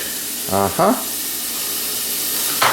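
Food dropping into hot olive oil in a pot for beef barley soup, a steady close sizzle and hiss throughout, with brief bits of a voice speaking over it.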